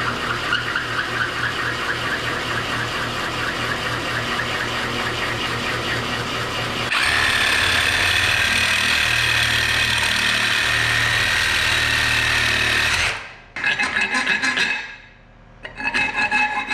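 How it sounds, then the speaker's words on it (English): Power tool cutting a key hole into an aluminum plate for a 1984 Honda Goldwing GL1200 cafe racer build, a steady loud rasping grind that intensifies midway, then cuts out with a couple of brief bursts near the end. "I have this aluminum plate right here that I'm going to take, and I'm going to cut out a hole for where the key goes"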